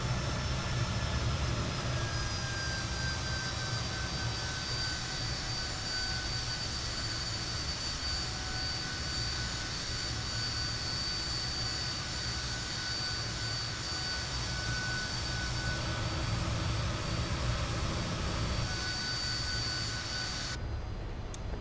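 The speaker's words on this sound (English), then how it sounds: "And the ground roll, the ground taxiing dynamics of the F28 were always the best of any aircraft I have ever flown in a flight sim" A Fokker F28 jet airliner in a Just Flight flight simulator rolls along the ground, its engines giving a loud, steady whine and rumble with a faint high tone throughout.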